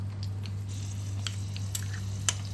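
Mustard seeds, chili, ginger and garlic fry in a pan of oil for a hog plum pickle, giving a quiet, continuous sizzle with a few small crackles and pops.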